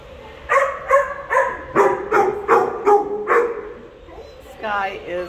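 A dog at an animal shelter barks in a quick run of about eight sharp woofs, fairly close and loud, then breaks off briefly before a whining, yelping cry at the end.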